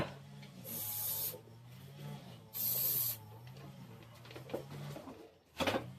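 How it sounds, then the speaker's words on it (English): Two long hissing bursts from a mastitis spray nozzle sealing a milked goat's teats, each about a second, then a short third burst, close and fairly loud over a low hum. "we have mastitis spray just to make sure we seal these teats back up"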